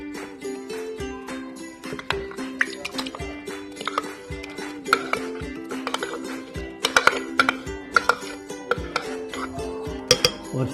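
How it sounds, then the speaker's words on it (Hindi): Tamarind pulp going into a blender jug in a kitchen, with repeated sharp glassy clinks and taps in an irregular rhythm, close and fairly loud, over a steady background hum. "इसे हम ब्लेंडर जग में डाल लेंगे।"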